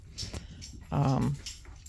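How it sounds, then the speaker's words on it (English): Excited dog indoors giving short whines and yips, then one louder, sustained bark-like whimper in the middle, nearby and alone, with no talk. "My dog's going crazy."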